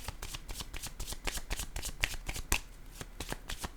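Tarot cards are shuffled close up, a continuous riffle of soft papery flicks and slaps in quick succession, fairly quiet, with no voices over it.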